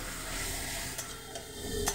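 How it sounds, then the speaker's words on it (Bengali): Quiet sizzling of something frying in oil, with a soft hiss and a couple of light stirring scrapes. "এই যে মশলাটা ভেজে নিচ্ছি"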